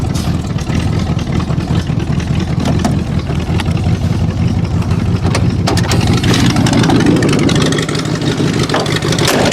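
A Ford Granada car engine runs loud and close, holding a steady rumbling idle with occasional small revs and clunks.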